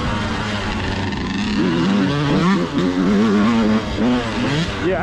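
A big orange KTM dirt bike engine revs hard and close, its loud buzzing pitch rising and falling in repeated throttle blips with no let-up.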